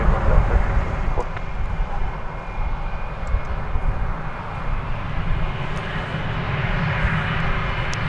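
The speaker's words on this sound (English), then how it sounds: "So there you see two 747s." Boeing 747 jets at DFW Airport, a steady, moderately loud engine roar with low rumble that dips briefly and swells again, while faint radio chatter sits in the background.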